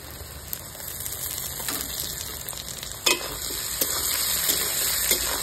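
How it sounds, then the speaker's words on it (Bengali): Onions frying in a pan at home, a close, steady sizzle and crackle with a few sharp stirring clacks and spatters, no talking. "পেঁয়াজ আমার ভাজা হয়ে গেছে"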